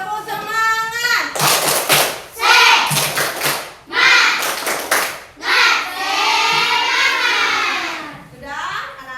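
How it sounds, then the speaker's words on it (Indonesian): Schoolchildren in a fifth-grade classroom perform a rhythmic 'tepuk semangat' cheer clap, with bursts of quick patterned clapping alternating with children chanting and speaking loudly together. "kita beri tepuk semangat dulu. Yuk, tepuk semangat."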